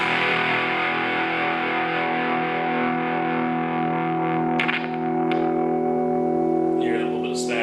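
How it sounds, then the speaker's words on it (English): Strummed chords on a Gretsch 5120 hollow body electric guitar fitted with GFS Liverpool pickups, played through overdrive, ringing loud and sustained with a gritty, slightly distorted tone and a faint static hiss, no voices. "The chords just ring out so much better on a hollow body guitar"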